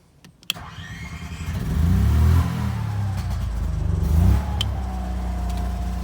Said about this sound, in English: And I also run the generator.